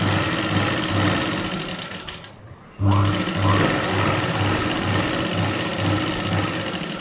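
A sewing machine stitches the lining of a 36-inch blouse with a loud, rapid, continuous whir that pauses briefly and resumes. Someone talks over the machine.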